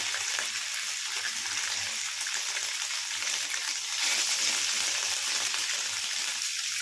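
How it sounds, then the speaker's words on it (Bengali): Paneer frying in hot, salted oil in a frying pan gives a steady, close sizzling hiss that runs unbroken from start to finish and swells slightly toward the end. "নুনটা দিলে পনিরটা ফ্রাই প্যানে আটকে ধরবে না। খুব হালকা হালকা করে ভেজে নেব।"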